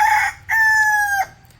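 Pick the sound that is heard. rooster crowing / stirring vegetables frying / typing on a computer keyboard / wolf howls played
rooster crowing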